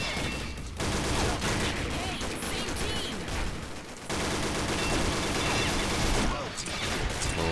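Rapid automatic gunfire from the video game Combat Arms crackles in loud, continuous bursts, broken by two short pauses, with faint voices under it.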